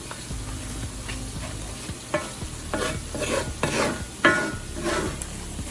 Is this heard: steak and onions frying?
yes